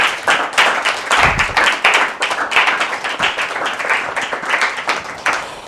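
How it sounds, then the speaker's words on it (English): An audience at a pageant talk show claps in a steady, dense round of applause lasting several seconds, loud and close, with no voices on top. "A round of applause, please."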